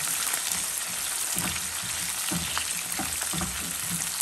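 Steady, dense sizzle of onions frying in a pan, loud and continuous, with occasional soft stirring bumps underneath.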